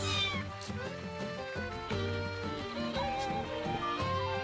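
Several cats meow repeatedly in the video game The Adventures of Elliot: The Millennium Tales, clear overlapping cries in quick succession over a steady bed of game music.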